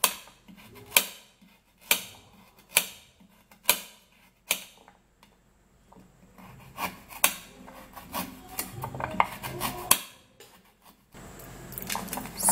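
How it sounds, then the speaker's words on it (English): A knife chops through carrots on a board in sharp, evenly spaced strokes, then faster scraping and cutting sounds follow. "I'm going to be cutting the carrots in pieces"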